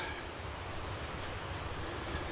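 A mountain stream running high rushes along a forest trail near Panther Creek Falls, giving a steady, broad roar of water that sounds nearby and continuous, without any voices.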